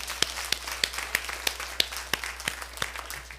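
A church congregation claps together in a steady, even rhythm of about three beats per second, sharp and moderately close, with no talk over it.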